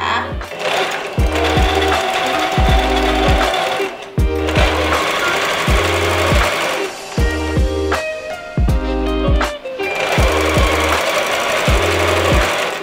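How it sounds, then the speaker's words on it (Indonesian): A sewing machine stitches along a single fold of shantung blouse fabric, running in loud sustained bursts separated by short pauses, with the motor's hum and rapid needle rhythm close and clear. "Kita lipat 1 kali, lalu kita jahit."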